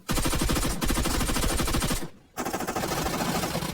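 Automatic gunfire sprays in PUBG Mobile at long range: a loud, rapid burst of shots, a brief silent pause, then another sustained rattling burst.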